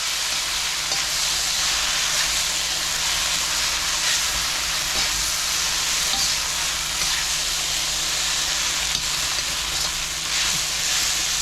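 Shrimp and tofu frying together in a pan for shrimp and tofu pad thai, a steady, close, loud sizzle running without break, with faint stirring scrapes under it and no talking.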